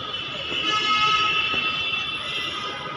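A metro train at Laxmi Nagar metro station gives off a steady, high electric whine with layered tones that swell and then ease slightly, loud and close, with no talking.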